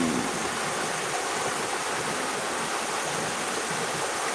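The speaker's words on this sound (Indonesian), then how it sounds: "Ini namanya Sungai Belawan." The Belawan River flowing at low water during a drought, a steady broadband rush that stays constant and fairly loud throughout.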